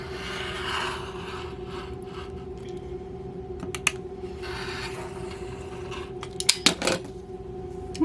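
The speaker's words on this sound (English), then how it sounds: "I'm just going to make a cut right across here." Scissors snip through crochet yarn close up, a few quick crisp cuts clustered near the end over a faint steady background hum, with no talking.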